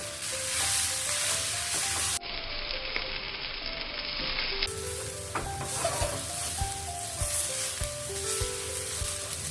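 Grated dry coconut, poppy seeds, sesame seeds and tomato roasting in a pan, a continuous loud sizzle with scraping stirs and clinks of a spoon against the pan, and a few quieter moments in between.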